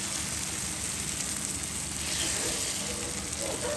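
Steady, close sizzle of egg hitting a hot pan for egg keema, a dense crackling hiss that carries on evenly throughout with no talk.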